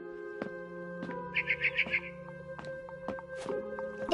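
A barn swallow chirping outside a window in the game What Remains of Edith Finch: a quick burst of four or five bright chirps over a steady tonal background, with scattered soft knocks around it.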